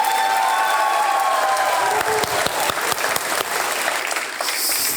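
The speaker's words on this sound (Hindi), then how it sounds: "तालियां बजते रहे देवी और सज्जनों।" A studio audience at a televised quiz show claps loudly and continuously, a dense, even wash of applause with a few faint cheers mixed in, and no talking.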